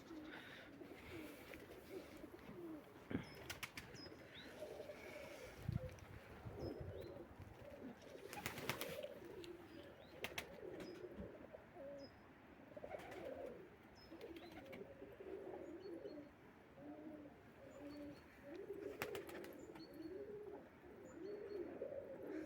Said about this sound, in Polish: w gołębnikach grukają